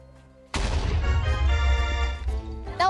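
A sudden loud boom in Minecraft bursts in after a quiet moment and rumbles on with ringing, crackling debris.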